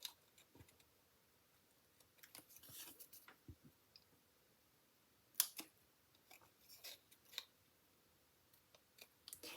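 Scissors snip card edges in quiet, scattered cuts, each a short crisp click. The snips are close but faint, with no talk.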